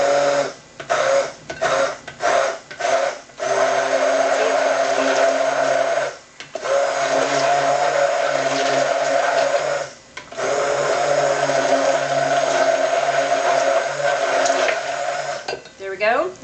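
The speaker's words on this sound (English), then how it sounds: "With a stick blender, you always want to make sure that these holes are under the liquid, or you'll end up splattering it all over your kitchen." A stick blender pureeing banana, blueberries, rice cereal and milk, running in short pulsed bursts at first, then longer steady whirring stretches with brief pauses, close and loud.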